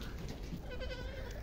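A goat bleats on a goat farm, the call close and fairly loud over a steady background of farmyard noise.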